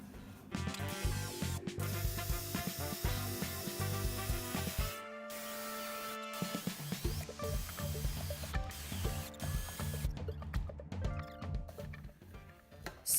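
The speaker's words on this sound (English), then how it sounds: "Now you just go ahead and put the lid on and just blend it." A blender whips heavy cream into butter with a loud, steady motorized whir that shifts in pitch as it churns. The motor cuts out briefly partway through, then starts up again.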